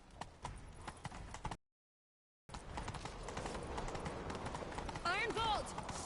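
Horses gallop in a rhythmic clip-clop of hooves during a chase in the video game Witcher 3, steady and fairly loud under game music. The sound breaks off for about a second of silence, then resumes, with a brief whistling or cry near the end.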